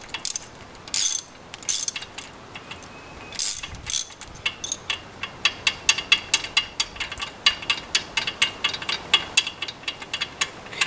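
A ratchet wrench tightens a bolt on a Yamaha F50 outboard engine. A few loose clicks come first, then a steady run of rapid, crisp pawl clicks, close and distinct with no talking.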